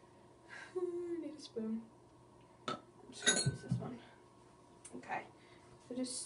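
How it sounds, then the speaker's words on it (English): A spoon scoops coconut oil out of a jar for a homemade skincare mix, giving soft intermittent clinks and scrapes of metal on glass, close up and fairly quiet. "So I'm basically just going to spoon some of this coconut oil out."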